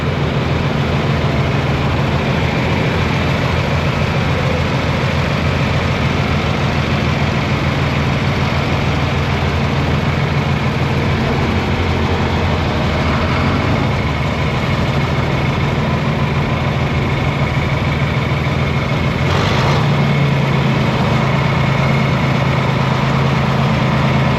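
An old tractor, a 1968 model, idles at a tractor parade, a steady low engine rumble that runs loud and continuous for the whole stretch with no talk over it.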